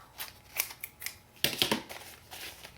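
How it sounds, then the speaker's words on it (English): Scissors snipping frayed fabric edges for a junk journal, a series of close, crisp cuts in an uneven rhythm, louder near the middle. "The fabric does fray a little bit, so I just cut that off."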